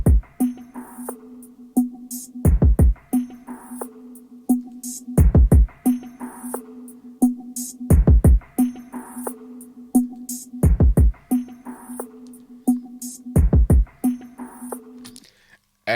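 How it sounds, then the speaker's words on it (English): A looping drum and bass pattern plays dry without saturation, with deep kick hits, crisp percussive ticks and a steady low bass tone, repeating evenly and alone. "My drum bass sounds like this right now without any saturation from the Blackbox Analog Design"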